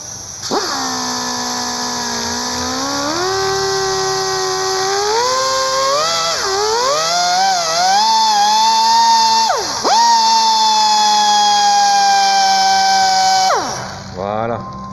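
A titanium drill bit cuts weld burrs from holes on the front end of a VW Type 2 bus. Its loud, close, high whine rises and falls with speed, dips briefly midway, then cuts out.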